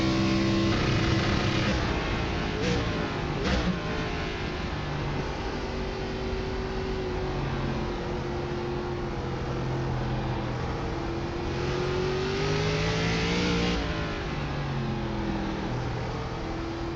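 An ARCA race car launches and accelerates at Lime Rock, its engine a loud continuous roar with rising and shifting tones as gears change, close and steady throughout, no speech.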